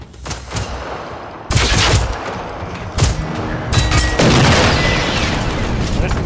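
Gunfire rings out in the video game Generation Zero, several loud, sharp shots and short bursts cracking out one after another over a background hum, with no talking.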